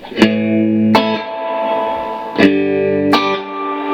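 A Fender Blues Junior guitar amp's spring reverb, turned all the way up, swells and splashes after four sharp plucked attacks, each decaying tail ringing out with a metallic wash.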